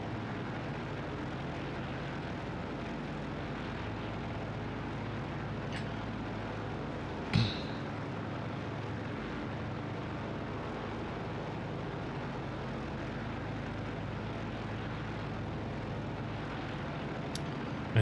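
Propeller engines of a Wing 42 Boeing 247D, a 1935 airliner, in Microsoft Flight Simulator 2024 give a steady, continuous drone with no voices, marked by a single sharp click partway through.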